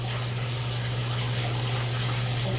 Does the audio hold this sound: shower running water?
yes